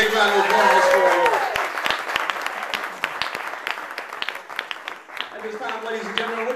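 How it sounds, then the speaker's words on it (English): Wedding guests break into a big round of applause for the couple right after their first dance, a dense burst of clapping that gradually thins out, with a speaking voice at the start and again near the end. "A big round of applause for you."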